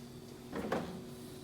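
A refrigerator deli drawer slides open or shut in a kitchen, a single soft, muffled rub lasting under a second over a steady appliance hum, fairly quiet and close.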